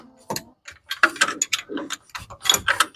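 Unscrewing a part while repairing a Scout TV-904 scooter, a series of irregular metallic clicks, ratcheting taps and scraping knocks close up, uneven in rhythm, with no talk during the sounds.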